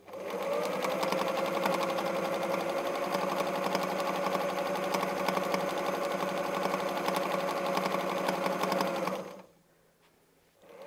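A sewing machine stitches free-motion quilting circles, humming in a fast, even drone close by for about nine seconds before stopping abruptly into near silence.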